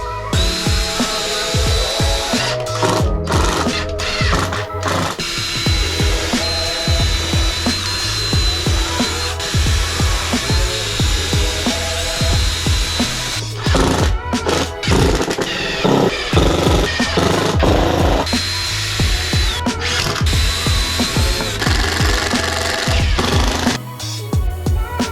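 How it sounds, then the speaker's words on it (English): A power drill drives 2-inch wood screws into a 2x4 table, a dense continuous whirring and grinding that runs loud and close for the whole stretch, with brief dips between screws. "I drilled pilot holes to help prevent splitting, and then secured everything together with 2-inch wood screws."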